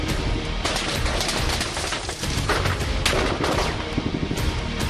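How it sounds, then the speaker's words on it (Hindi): Dense, sustained gunfire crackles without pause in a war zone in Kyiv, Ukraine, rapid bursts overlapping into a loud continuous barrage. "अचानक गोलियां चलने लगी"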